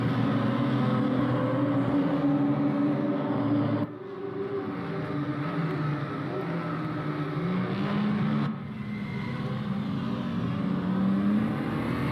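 BMW 235i race cars lapping Brands Hatch, a pack of engines droning and revving loudly with shifting pitch as several cars run nose to tail, with two sharp drops where the sound changes.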